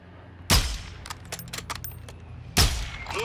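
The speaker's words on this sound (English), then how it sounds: "We got players to the south shooting too." Two sharp, loud gunshots about two seconds apart from players firing in the DMZ mode of a shooter game, with faint clicks and gear rattles between them and no voices.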